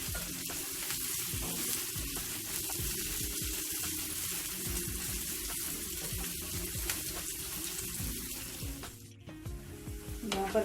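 Chopped onions fry in a pan until golden brown for a whole masoor dal dish. A dense, steady sizzle runs throughout with occasional stirring scrapes, close up and without talk.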